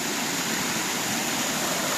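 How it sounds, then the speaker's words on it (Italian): Waterfall in a dolomite canyon, a steady, loud broadband rush of falling water heard up close, continuous and unbroken with no talking. "Probabilmente siamo sul metro sotto la cascata."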